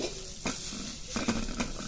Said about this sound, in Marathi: अशी नरम झालेली चटणी आहे ती थोडीशी फ्राय करून घ्यायची आहे